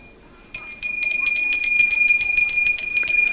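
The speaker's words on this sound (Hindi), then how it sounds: "शंख बजे, घंटी बजे।" A hand-held temple bell rings during aarti at a Bhagwat Katha gathering, starting abruptly and then clanging in a fast, steady, loud series of bright, ringing strikes.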